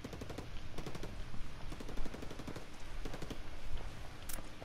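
Gunfire in a shooter video game: steady rapid bursts of shots, fairly faint and slightly distant, over a constant layer of battle noise with no talk.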